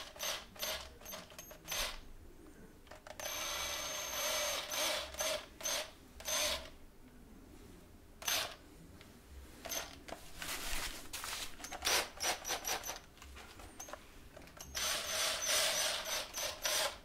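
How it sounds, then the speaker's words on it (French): A power drill runs in a DIY workshop in repeated close bursts of whirring, starting and stopping with short gaps and quieter stretches between runs. "perceuse."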